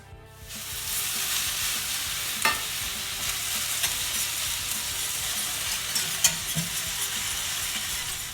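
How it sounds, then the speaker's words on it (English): Vegetable stock is whisked into a sauce in a pan, giving a continuous bubbling sizzle with occasional light clinks and scrapes of the whisk against the pan, close and steady. "I'm going to add a cup of vegetable stock to the pan and keep whisking to let it combine together."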